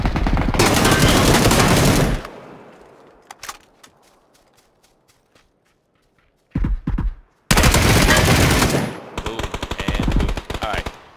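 Bursts of automatic gunfire in the battle royale game PUBG, loud dense volleys at the start and end with a few isolated shots and a short silence in between.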